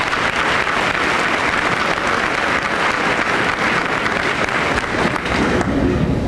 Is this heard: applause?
yes